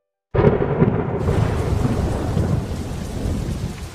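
Heavy rain in a Doraemon animated film, a loud steady downpour that begins suddenly and roars continuously, with a deep thunder-like rumble underneath.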